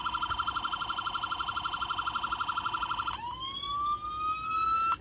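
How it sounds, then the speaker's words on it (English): Toy siren from a Ford Police Interceptor slicktop diecast model, cycling through tones: a fast, steady warbling yelp for about three seconds, then a rising wail sweeping upward, thin and electronic, close and alone. "hit the siren here real quick, same as your other cars. Goes through a few sounds"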